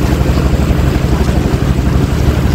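Trawler boats on the open water of Nikli Haor give off a loud, continuous low engine throb, thick with wind and water noise, with no voices.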